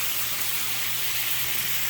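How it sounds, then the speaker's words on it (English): Steady broadband rushing of a cave waterfall pouring through rock into a pool, continuous and fairly loud, with a low steady hum underneath and no voices. "there's the waterfall coming through the rock"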